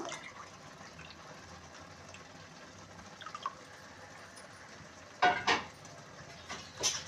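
Quiet kitchen sounds, then water splashing and pouring into a pot on a gas stove in a few short bursts.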